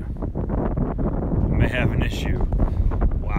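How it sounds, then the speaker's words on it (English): Strong wind buffets the microphone outdoors on a lake during a crappie fishing trip, a steady broadband rush that persists loud throughout with faint boat noise and a voice mixed underneath. "The wind picked up."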